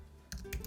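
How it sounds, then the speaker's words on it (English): Several quick computer keyboard keystrokes, faint and close, clicking in a short burst after a moment of quiet while text is typed into a design program. "click on the text tool and type in your words"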